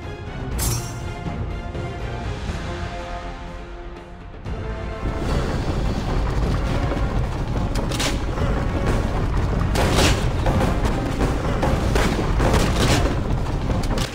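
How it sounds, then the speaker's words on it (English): Cannon barrage salvo in Assassin's Creed: Revelations tower defense, a dense continuous roll of booms and crashing impacts with mechanical clatter, loud and sustained throughout, with a brief dip before the firing swells again. "Now we can just use the cannon barrage salvo"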